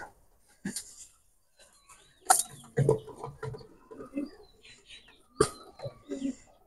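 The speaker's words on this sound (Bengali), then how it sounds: "তো আমি ছেড়ে দেখাচ্ছি দুইটা কবুতর।" Two white golden teddy pigeons being let go, with a few sharp wing flaps and scattered soft bird calls, set apart by quiet gaps and heard close by.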